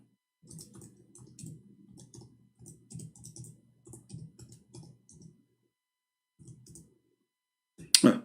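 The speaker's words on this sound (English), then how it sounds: "I'm typing in English." Typing on a computer keyboard, a steady patter of soft clicks in bursts over several seconds, with pauses and a louder clatter at the end, close and alone without voices.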